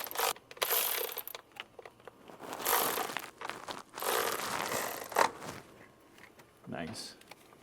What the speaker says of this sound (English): Then we're gonna tighten the bolt.